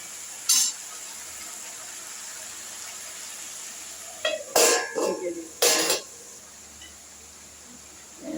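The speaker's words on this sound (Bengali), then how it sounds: "এবার সবজিটা একটু কষবে, ঢেকে দিচ্ছি" Mixed vegetables for a Bengali panchmishali tarkari fry under a lid in a home kitchen, giving a steady soft sizzle broken by a few sharp clanks of the lid and utensils.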